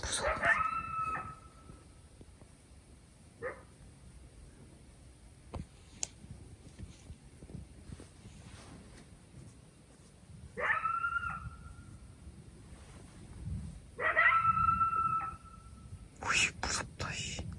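Dog at a campsite barking and howling in drawn-out, wavering bursts at intervals, close and fairly loud, with quiet stretches and soft background noise in between.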